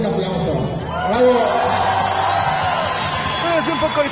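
Crowd cheering, whooping and shouting at a car expo in Orizaba, Mexico, a lively swell of voices throughout, with someone talking over it.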